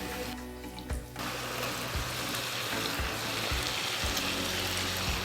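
Quarter cup of water poured into frying masala for aloo shimla mirch, a brief splash then a steady, fairly loud hiss of sizzling with a few soft clinks of a utensil against the pan.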